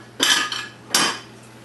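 Dishes clink and clatter twice in sharp bursts as a dishwasher is unloaded. The bright, close rattles come about three-quarters of a second apart, and a steady low hum continues underneath.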